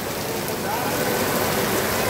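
Stormy evening rain in Nagar pours steadily across the whole clip, a dense, even hiss close by with no clear breaks, like heavy rainfall drumming on surfaces.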